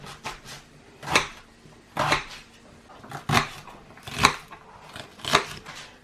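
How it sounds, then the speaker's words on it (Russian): A knife chops onions steadily on a cutting board, about one crisp thud every second, close and fairly quiet. "Нарезаю луковицы, 2 луковицы."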